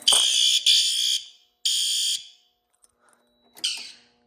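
A fire alarm sounds during a panel system test, giving several loud, shrill horn bursts, three in quick succession and then one more after a short silence, heard close and alone.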